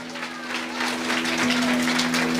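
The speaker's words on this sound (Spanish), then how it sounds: "Fuerte aplauso, iglesia de Cristo" Church of Christ congregation applauding in a steady, dense wash of clapping that fills the room from start to finish, with a sustained tone humming underneath.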